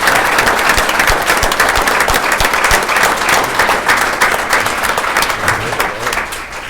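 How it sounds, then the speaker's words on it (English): A school event audience applauds the artists with loud, sustained clapping that carries on steadily, tapering slightly toward the end. "Let's give our artist a round of applause"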